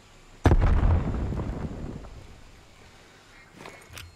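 A thrown grenade explodes in the video game Black Ops Cold War with a loud, sudden close blast that rumbles and fades over a couple of seconds, followed by faint gameplay noises.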